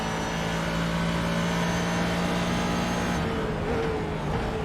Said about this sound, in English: you can hear the V10 Audi engine in the back of the Lamborghini Huracan as they come out of Pullen corner